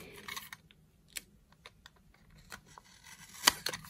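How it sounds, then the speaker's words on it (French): A craft knife cuts through paper in short, sharp scratching strokes, irregular clicks and scrapes close up, with quiet gaps between them and no talking. "j'ai peur de couper le papier"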